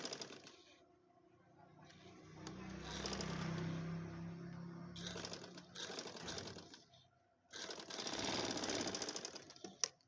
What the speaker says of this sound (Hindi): आपने हाफ़ इंच की सिलाई लगानी है